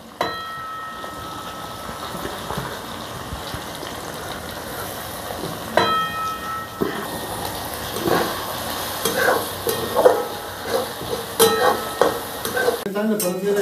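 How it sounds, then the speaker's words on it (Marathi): Onion sautéing in a pan for masala egg bhurji, a steady sizzle and frying hiss throughout with repeated spatula stirring scrapes growing busier toward the end, close and fairly loud with no talking. "कांदा परतून घेतला, तो कांदा टाकून घेऊया।"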